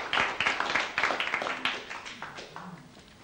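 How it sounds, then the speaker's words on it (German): An audience applauds at a literary reading: a brief burst of dense clapping that starts fairly loud and gradually thins and fades out over a few seconds. "Applaus"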